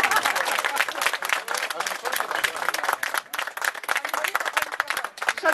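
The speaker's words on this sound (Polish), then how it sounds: "Proszę o brawa." Applause from a gathered crowd at the opening ceremony of a social cooperative, a dense rush of hands clapping that swells and dips without a break and carries a faint murmur of voices underneath.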